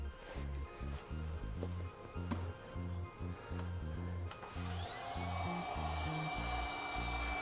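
An electric pump inflates an air bed inside a camper van, a steady loud whirring drone running throughout and rising to a higher, brighter tone in the final few seconds.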